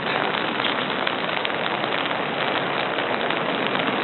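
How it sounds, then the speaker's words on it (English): Steady spring rain falling on a surface outdoors, a dense, even hiss of drops that stays loud and unbroken with no voices. "A rainy day, April showers,"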